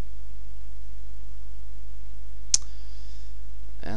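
A single sharp mouse click sounds once, close and crisp, against a steady low electrical hum while clicking OK in SolidWorks, with a faint second click at the end.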